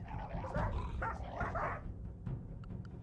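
Dogs in the video game RimWorld bark, yip and whimper in a jumble while they fight one another, the sound fairly close and layered in overlapping bursts.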